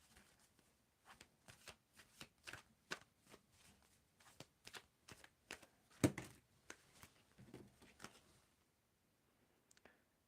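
Tarot cards being shuffled by hand in a quiet room, a steady run of soft riffling slaps and crisp flicks repeating for several seconds, close and clear, with one sharper snap midway and no talking.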